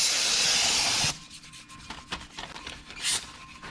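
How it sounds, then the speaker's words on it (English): A new brake rotor for a 2010 Hyundai Sonata V6 is scrubbed with brake cleaner. A loud hiss of spray runs for about a second, then come close, uneven rubbing and wiping strokes. "once you get it out with a brake cleaner, you just give it a good rub"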